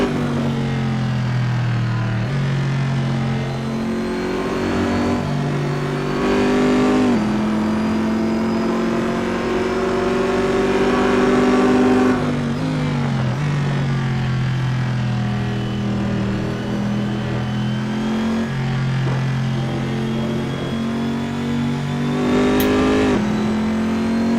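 A GTE race car in a racing video game revs hard at the race start, its engine climbing and dropping through gear changes in a loud, continuous, close-up roar.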